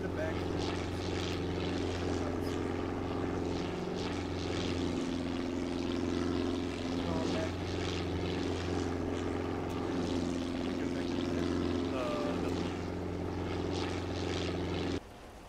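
A military helicopter in the Operation Starlite video game drones with a steady, loud rotor and engine hum throughout, heard from close by inside the cabin, with players talking over it before it cuts off at the end.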